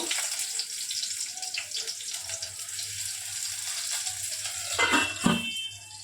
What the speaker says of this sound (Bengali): রসুনটা খানিকটা ভেজে নিতে হবে, একটু লাল লাল করে ভেজে নেওয়ার পরে সর্ষেটা দেব